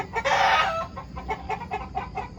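Indonesian free-range native village chickens on a small farm cluck in a quick, uneven series, opening with a louder drawn-out squawk or crow close by.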